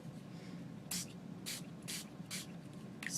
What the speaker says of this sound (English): Spray some of that on there.